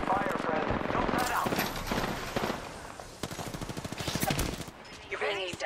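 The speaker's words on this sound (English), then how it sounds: "I am taking fire, friend." Rapid bursts of automatic gunfire in the Apex Legends video game, dense and loud, with a voice talking over parts of the firing.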